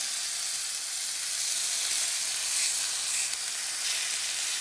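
Eye round steak sizzling as it is laid into very hot extra virgin olive oil in a cast iron pan, giving a steady, loud, close frying hiss that holds evenly throughout with no talking.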